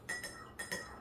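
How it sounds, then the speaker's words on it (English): A bar spoon clinks against a glass while stirring sweetener into a drink, a few quick, bright metallic taps in two close pairs. "And just get a good bar spoon, and you're going to want to stir this up now."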